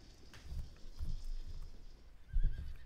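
Horses of nomad horse archer cavalry in the Field of Glory II strategy game give neighs and whinnies over a muffled, low rumble of hooves and movement, moderately loud against faint background noise.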